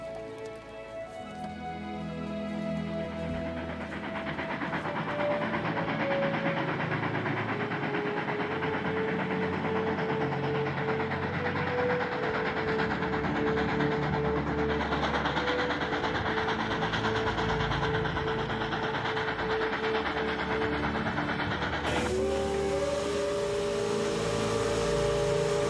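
A train runs steadily along the rails with a continuous rumble and rattle of the cars, plus sustained tonal squeals from the wheels and a sudden shift in the tone near the end.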